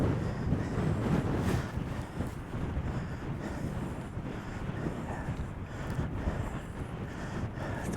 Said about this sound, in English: The wind's just so crazy.